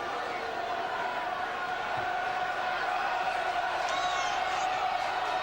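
A football crowd at a 1992 Charlton Athletic versus Millwall local derby keeps up a continuous loud roar and chanting throughout, with no break in the dense stadium noise.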